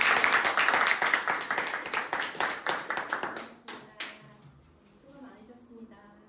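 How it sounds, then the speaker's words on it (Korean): An audience at a lecture with a poet claps for her, loud and close at first, then tapers into a few scattered claps and falls quiet as a voice murmurs faintly. "우리 여미원 씨님한테 박수 한번 주세요"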